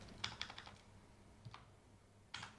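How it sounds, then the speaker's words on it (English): Soft keystrokes on a computer keyboard, a few quick clicks at the start, a lone tap in the middle, then another short cluster near the end, faint and close. "I'm going to type HEALCARE."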